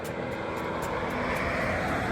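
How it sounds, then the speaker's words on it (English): Steady broadband road traffic noise along a hiking route near a creamery, a continuous loud roar and rush of passing vehicles with no talk. "Sorry for the road noise."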